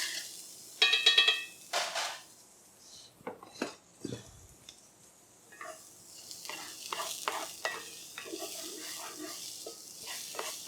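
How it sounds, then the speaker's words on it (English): Shallot and lemon rinds being sautéed in olive oil in a pan, heard as a soft sizzle with scattered scrapes and clinks of a utensil stirring against the pan, fairly quiet and without talk. "I'm going to throw in the shallot and the lemon rinds right in before I throw in the prickly pears. I want to saute this just a bit."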